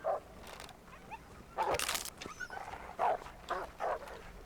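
A wolf in The Long Dark snarls and barks in short, harsh bursts at close range, with quieter growls in the pauses between them.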